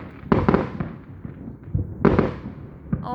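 Fireworks burst overhead in sharp booming cracks, two big explosions trailing into crackling and rumbling echoes, loud and a little distant, with no talking.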